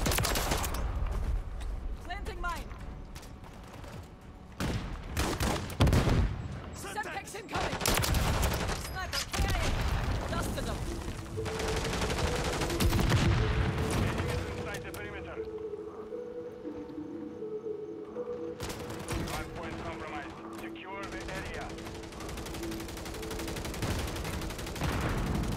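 Bursts of gunfire in the video game Call of Duty, rapid volleys and single shots under frequent voices talking, with a sustained tonal sound in the middle.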